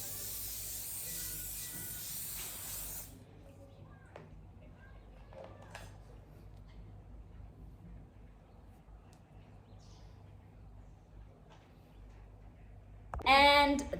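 Tresemme hairspray sprayed onto a closure wig, heard as a steady, close hiss lasting about three seconds, followed by quiet room noise and a short burst of spray near the end.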